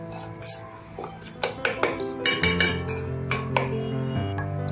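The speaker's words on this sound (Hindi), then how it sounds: "इसको मिक्स करेंगे अच्छे से." A spoon clinks against a bowl while mixing a paneer tikka marinade of sugar and heated mustard oil, with irregular metallic taps and rings that grow busier and closer partway through.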